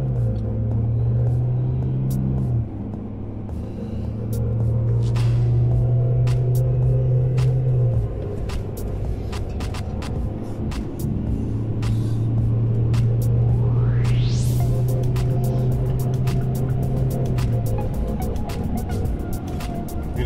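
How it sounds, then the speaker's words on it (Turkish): Mercedes E200d diesel sedan accelerating from 0 to 100 km/h in sport mode, a steady engine drone with rising and falling rumble across gear changes, heard from inside the cabin with no talking. "Arabanın 0-100 km hızlanmasını görelim"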